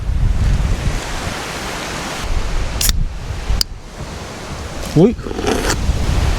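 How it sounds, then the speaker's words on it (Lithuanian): Strong outdoor wind roars and buffets close to the microphone in heavy, uneven gusts, dipping briefly and swelling again, while someone speaks over it. "Vėjas tai kosminis vėjas."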